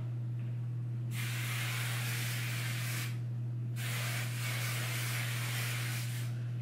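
Hair product sprays onto heatless curls in two long hissing bursts, the first about two seconds and the second about three, close to the mic over a steady low electrical hum, no talking.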